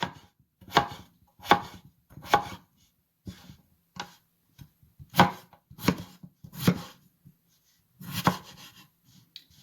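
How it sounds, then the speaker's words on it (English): A knife dices potato on a cutting board: about a dozen sharp, separate chops in irregular clusters, close and clear with no talking, and short quiet pauses between strokes. "I'm going to dice the potato"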